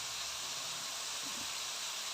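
Chopped large onions and green chillies sizzle as they are sautéed in hot oil in a pan, a loud, continuous, even hiss with no voices.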